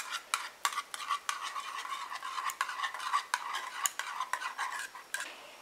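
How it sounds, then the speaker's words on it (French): A utensil stirs an aqueous phase with inulin in a small container while a homemade hair conditioner is being mixed, giving quick repeated clinks and scrapes in an irregular rhythm, close and fairly soft, with no talking. "Je vais commencer par prendre ma phase aqueuse à laquelle je vais ajouter mon inuline et je mélange."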